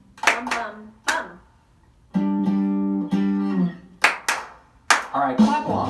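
Several people clap along to a rhythm during a library storytime. Bursts of claps alternate with sung or chanted rhythmic syllables, heard close in a room.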